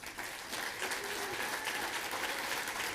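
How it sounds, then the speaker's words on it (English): Audience applause at a Rotary community-service event, a steady, dense burst of many hands clapping that fills the whole stretch at an even level. "So I want everybody to give them applause."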